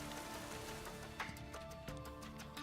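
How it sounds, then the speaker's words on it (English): Rain falls in a back alley in the game NIKKE, a soft, steady patter of drops on hard surfaces with faint low tones underneath, quiet and continuous. "Only the sound of rain remains in the back alley."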